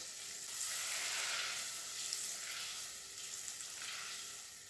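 Caramel bubbling and sizzling steadily in a saucepan while being made for a caramel apple crumble, a soft continuous hiss and crackle with slight swells, close and fairly quiet, no talking.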